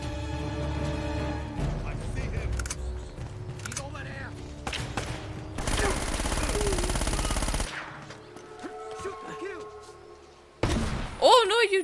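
Rapid gunfire from a heavy-hitting gun in the video game Uncharted: Drake's Fortune, loud bursts of automatic shots with thuds and impacts, mixed with game music and effects and a few sharp single reports.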